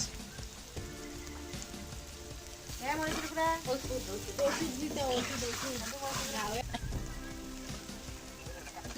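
Fish roe fries with onion in a pan, a crackling, rain-like sizzle that swells in the middle as someone talks over it.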